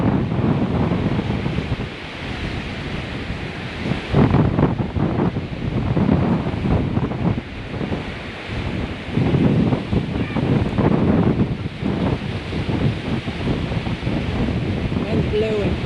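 Strong hurricane wind gusts roar in a steady, loud broadband rush, swelling and easing over storm surf and surge pounding an eroding shore, with a voice talking briefly over the din.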